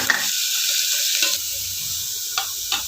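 Green chilies drop into hot oil with already spluttered mustard and cumin seeds, giving a steady bright sizzle with a couple of soft clinks from the pan, close up.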